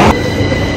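A train rumbles loudly at London Euston station, close and steady across the short span. There is a sharp cut right at the start and no talking.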